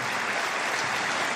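Church congregation applauding during a sermon, a brief burst of dense, even clapping filling the room at steady loudness.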